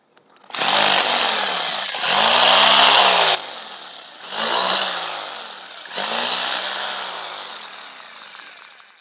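A power drill bores into a wall while an Airtel DTH satellite dish is being mounted: four loud, close bursts of whining, grinding drilling, each a second or two long, separated by short pauses.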